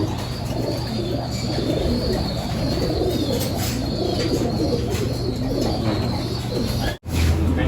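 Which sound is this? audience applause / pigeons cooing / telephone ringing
pigeons cooing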